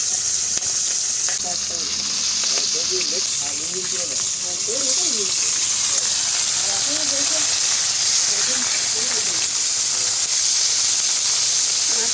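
Oil sizzles and hisses steadily in a pan while hilsa fish cooks, a continuous close frying hiss with faint voices or clinks murmuring underneath.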